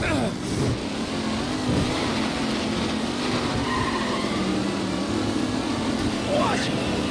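Race car engines roar steadily on the final lap of a race in Mafia Definitive Edition, a dense continuous revving drone with passing cars whining by, as a commentator speaks over them.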